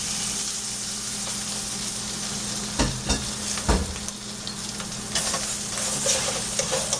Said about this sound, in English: To this I'm going to add the fish which I just fried.